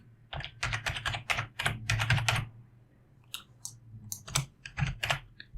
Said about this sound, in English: Now I can just type the heading.